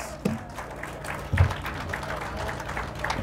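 A church congregation applauds during a Spanish-language sermon, a steady, moderate wash of many hands clapping, heard from a short distance, with a voice briefly audible over it.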